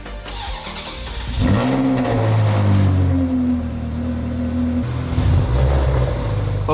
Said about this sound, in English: We're going to drive a bit to dry it off.